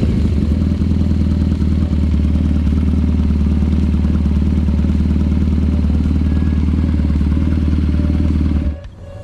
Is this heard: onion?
no